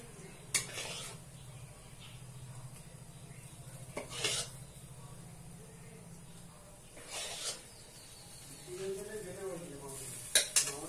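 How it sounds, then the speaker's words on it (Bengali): Moong dal laddu mixture stirred with ghee in a pan, a low sizzling hiss underneath scattered scraping and clinking of a spoon against the pan, close by. "এবার এটাকে ভালো করে ঘিয়ের সঙ্গে মিশিয়ে নিতে হবে, পাকটা তৈরি করতে হবে।"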